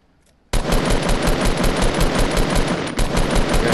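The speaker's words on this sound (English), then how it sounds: "I'm gonna shoot out the wall" Rapid automatic gunfire in a video game, a dense sustained burst of loud close shots blasting out a wall, starting abruptly after a brief quiet and continuing with a momentary dip near the end.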